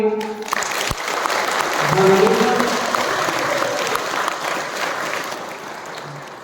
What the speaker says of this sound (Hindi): तो फिर एक बार हम प्रभु को जोरदार तालियां मारेंगे।